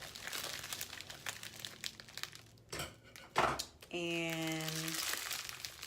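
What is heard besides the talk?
scissors cutting open a package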